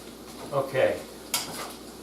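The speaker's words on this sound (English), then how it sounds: "I'm going to mix those in" Sautéed mushrooms are mixed into cooked ground meat for a white Bolognese, with a few soft spoon scrapes and a sharp clink against the pan over a faint sizzle.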